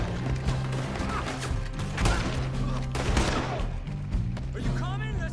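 Repeated gunshots ring out in a Red Dead Redemption 2 ship robbery shootout, sharp loud bursts scattered across a dense bed of game music and chaotic crashes.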